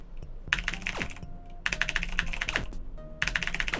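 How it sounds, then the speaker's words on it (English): Loud, rapid clicking of Razer mechanical keyboards being typed on, in dense bursts with short pauses between, close and with no voices over it. "if you can hear loads of clicking, it's razor keyboards"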